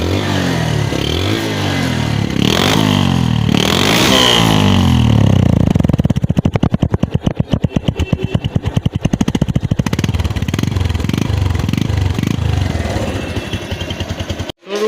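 A Bajaj Discover 135cc motorcycle engine runs in front of a showroom, a loud close throbbing that rises and falls, then settles into a rapid even putter before cutting off abruptly.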